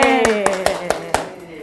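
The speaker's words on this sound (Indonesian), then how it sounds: "Tepuk tangan dong untuk mereka." A few people clap for the Santa Ursula teachers in a small room, about six sharp separate claps over a faint tone.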